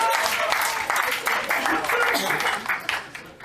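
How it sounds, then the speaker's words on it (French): A comedy show audience applauds Claude Poirier, a brief burst of clapping under and after a host's voice, fading toward the end. "on l'applaudit, Claude Poirier, s'il vous plaît"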